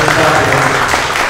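Audience applause at an Italian book presentation, a steady wash of many hands clapping throughout the short moment with no pauses.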